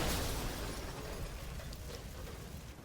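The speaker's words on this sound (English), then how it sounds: "The sign falling over exploded the bus, and the explosion from the bus tilted the bus over to open a door" A bus explodes in the Resident Evil 6 video game, a loud, dense roar of blast noise that fills the whole moment and eases slightly as it rumbles on, with no voices.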